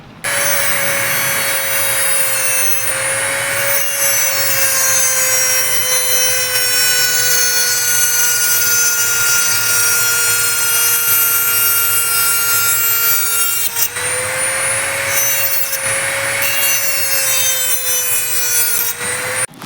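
A power tool fitted with a cutting attachment saws through wood with a loud, close, steady whine full of ringing overtones. The cut runs almost unbroken, with slight dips in pitch around the fourth and fourteenth seconds.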